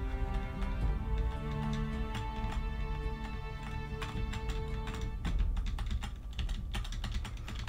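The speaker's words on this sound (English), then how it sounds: "even though you can hear the clacking of the keys" Computer keyboard keys clack steadily as someone types, a rapid stream of sharp taps over a constant low hum and faint tonal background.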